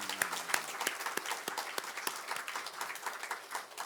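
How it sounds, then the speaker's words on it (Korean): A church congregation claps in encouragement during a Sunday worship service, crisp rhythmic claps blending into steady applause, moderately loud and close. "우리 힘차게 박수하면서 격려하겠습니다."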